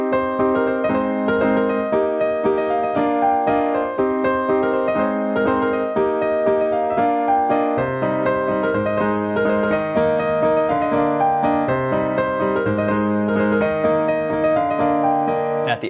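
Solo piano playing the breakdown section of a song, a steady stream of sustained chords and melody notes, full and continuous, close and alone with no talking.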